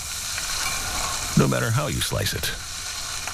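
Pork sizzles steadily as it fries, a continuous hiss running through the whole stretch while a person speaks over it.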